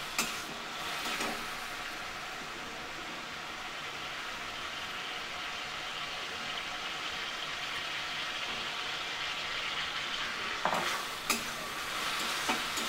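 Bottle gourd frying in a pan gives a continuous soft sizzle, with occasional spatula scrapes and clinks as it is gently stirred, fairly quiet and close with no voices.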